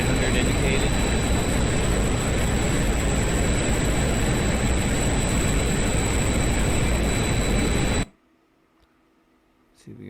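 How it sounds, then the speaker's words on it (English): A MiG-21 jet engine in full afterburner in the DCS flight simulator on a night mission: a steady, loud, dense roar that runs unbroken for about eight seconds, then cuts off abruptly to near silence. "why not just go full afterburner and burn some fuel and get home more quickly?"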